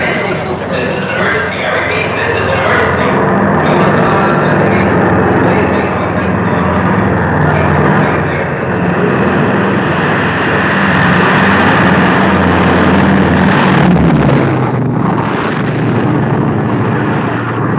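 A loud, continuous airplane engine roar that holds steady for the whole stretch with a broad rumble, swelling briefly near the end; no clear talk over it.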